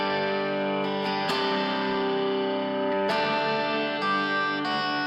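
Sustained electric guitar chords with no distortion ring out with a shimmering effect, strummed anew every second or so, loud and close.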